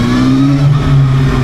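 A ZXMOTO 500F inline-four motorcycle engine revs up close and loud, a brief buzzy rise in pitch that holds, with no voices over it.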